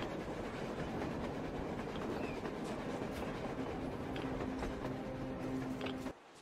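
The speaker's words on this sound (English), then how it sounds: "Looks like they're chasing that train too." A train rolls along the rails in the video game Metro Exodus, a steady, dense rumble with faint rhythmic clatter and a low hum running throughout before it drops off abruptly at the end.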